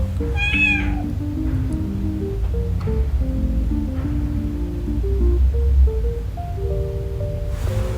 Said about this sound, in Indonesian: Suara kucing aku, dia pengen masuk.